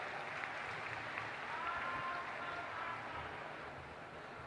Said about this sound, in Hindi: सभी लोग जोरदार तालियों से उसका